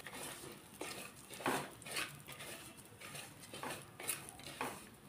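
Coarse wheat semolina roasted in ghee, a spoon scraping and clinking against the pan in irregular strokes over a faint background hiss, near and moderately quiet with no talking.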